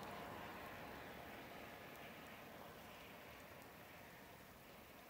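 Light rain falls over a lake during a fishing trip, a faint, even, continuous patter and hiss that runs steadily throughout with no voices.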